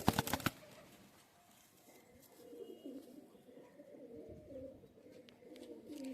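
A female pigeon in a large loft coos in soft, repeated low phrases after a brief burst of wing flutter at the start, fairly close and otherwise quiet.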